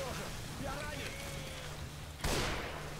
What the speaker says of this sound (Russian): Это я выстрелил.